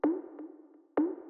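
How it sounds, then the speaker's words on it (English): Synth whoop in a tech house track, soloed, a short rising percussive tone that hits twice in a syncopated pattern with a faint echo between the hits, quiet and alone. "there's also this kind of whoop sound, which is playing a syncopated rhythm"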